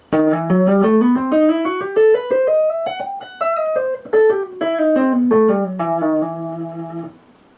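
A melodic instrument plays a minor scale with a raised seventh, ascending step by step then descending, each note clear and evenly paced.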